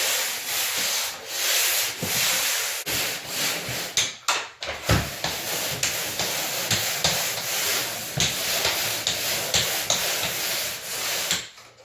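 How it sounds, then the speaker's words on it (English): Steady abrasive sanding strokes rasp back and forth against patched wall areas, close and continuous, with brief pauses and a few scraping bursts. "Make sure you get everything sanded."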